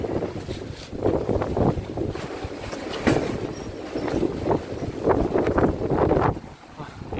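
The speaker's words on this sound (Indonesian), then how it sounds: "Ini anginnya kenceng banget guys" Strong wind gusting loudly and continuously around the microphone outdoors, a roaring, buffeting rush that swells and dips in waves, with no voices standing out.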